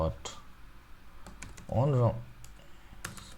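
Light, quick clicks of a computer keyboard as Android code is typed, tapping in short irregular runs beneath a voice that talks briefly midway.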